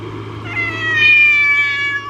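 A large cat meows in one drawn-out, rising call, close and fairly loud, with a low steady hum underneath and no talking.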